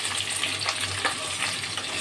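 Cut potatoes fry in a pan for a vegetarian home-cooked curry, giving a steady, close, even sizzle that runs unbroken through the clip with no talking.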